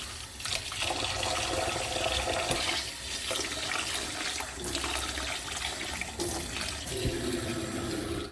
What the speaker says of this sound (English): I'm going to fill it with water again.